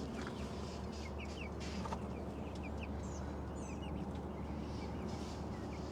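Backyard chickens cluck and chatter in a simple urban chicken run, a rooster among them, with soft overlapping clucks and brief calls over a steady low background hum.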